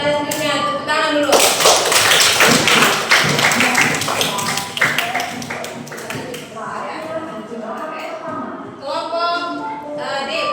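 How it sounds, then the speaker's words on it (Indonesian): A class of children clapping hands together in a classroom, a dense, loud burst of rapid overlapping claps lasting several seconds, with voices chanting and talking over and after it. "Selanjutnya tepuk tangan dulu."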